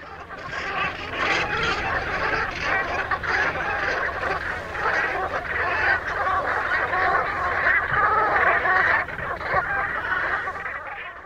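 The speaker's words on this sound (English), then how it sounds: "As they fly overhead, you can hear them chattering away to each other, making their glorious guttural cronk call." A flock of dark-bellied brent geese call continuously overhead in flight, a dense chorus of guttural cronking and chattering that stays loud throughout.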